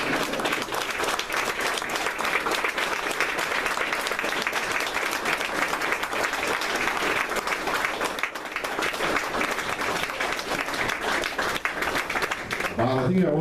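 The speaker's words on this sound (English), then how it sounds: "let's give a big round of applause for our 20-year-olds" Large audience applause at an event honoring Tuskegee Airmen pilots in Atlanta: loud, dense, continuous clapping that holds steady for many seconds, with a voice briefly heard near the end.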